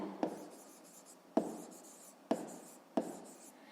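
A pen writing numbers by hand for a fifth-grade maths exercise, four sharp taps each followed by short scratchy strokes, close and quiet, with no talk.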